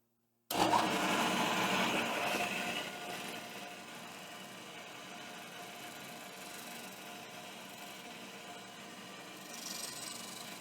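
A carbide end mill cuts into a Sako 75 rifle stock during pillar bedding, starting abruptly as a loud, steady machining whir that eases to a constant, slightly quieter grinding hum.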